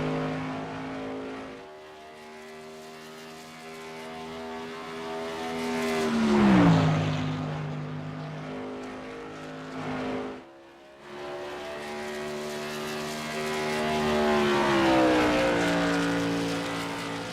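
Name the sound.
Tour Modified race car number 42 on track during qualifying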